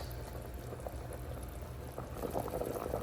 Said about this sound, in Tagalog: Dagdag natin ang toyo, suka, at ang patis.